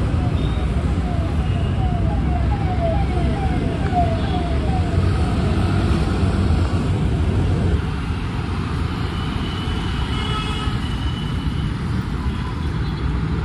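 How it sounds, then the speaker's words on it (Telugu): A bus drives past on a road among other traffic, making a loud, continuous engine and tyre roar that holds steady and then eases slightly as it moves on. "మళ్ళీ బస్సు వెళ్తుంది."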